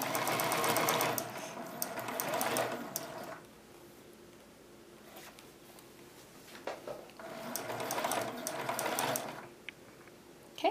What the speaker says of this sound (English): Okay, so we're going to go ahead and sew that together.